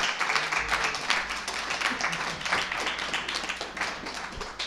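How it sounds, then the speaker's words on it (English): An audience at a casual demo evening with beers claps enthusiastically for a speaker, a dense, lively round of applause close by that holds steady for several seconds. "If I can get a big round of applause for Jeff from Kira Talent"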